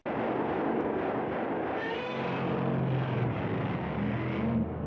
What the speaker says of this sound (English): that's such a uniquely Godzilla roar